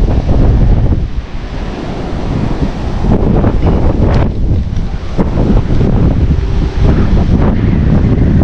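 Strong, steady wind roaring across the microphone with waves and surf washing underneath, continuous and loud throughout.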